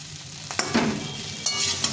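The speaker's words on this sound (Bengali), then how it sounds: "একদম সুন্দরভাবে ভেজে নিলাম" Potatoes frying in a pan of oil, heard as a close, continuous sizzle broken by a couple of sharp scraping stirs from a utensil.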